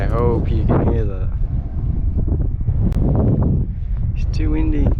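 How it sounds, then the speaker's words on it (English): Strong wind buffets the microphone on an open hillside in the Peak District near Derwent Edge, a loud continuous roar with gusts, while a person talks over it. "It's too windy."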